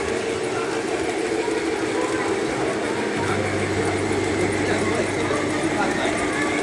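Model trains run through a fire station's holiday train garden in Baltimore, a steady mechanical hum and rumble with a low drone joining partway, over a busy indoor room with people talking.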